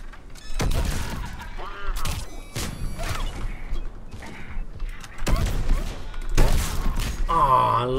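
Shotgun blasts in the sci-fi shooter Mass Effect 3, fought against Cerberus troops: several loud broadband booms spaced a second or two apart over game music and combat noise, with some talk nearby.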